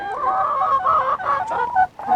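Several chickens cluck and squawk close by in a flock gathering around people, a steady overlapping chorus of calls with no talking.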